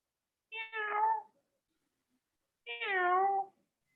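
A voice imitates a cat, giving two drawn-out meows separated by a short silence, close and clear.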